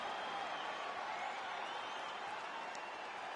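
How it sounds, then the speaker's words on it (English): A crowd at a mixed martial arts fight night applauds and cheers after a round, a dense, steady wash of clapping and crowd noise filling the hall throughout, with no voice standing out. "So the crowd voicing its appreciation after that round."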